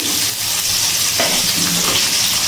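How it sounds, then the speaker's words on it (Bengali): Cut potatoes fry in hot oil with a steady, dense sizzle and hiss that stays even throughout, close and fairly loud, with no voices. "এবার এই তেলের মধ্যে কেটে রাখা আলুগুলো ভেজে নিচ্ছি।"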